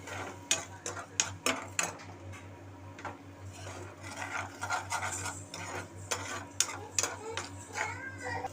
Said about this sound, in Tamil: இப்போ வந்து கடாயில் வந்து முட்டை வதக்கிக்கலாம்.